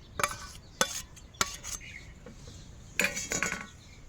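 A spoon scraping and clinking in a metal bowl as ground spice paste, salt and turmeric are mixed into pangas fish pieces, in short irregular bursts with brief pauses; close and clear, no talking.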